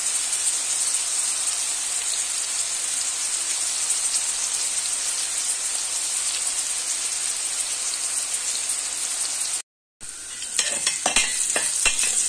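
Onions and garlic fry in hot oil in a pan, a steady close sizzle with brief stirring scrapes, cut by a short silent gap before the sizzling resumes.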